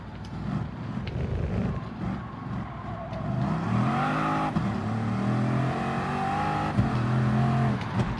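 Car engine accelerating hard through a corner, revs climbing in rising harmonic sweeps, close and loud with steady road and wind roar underneath.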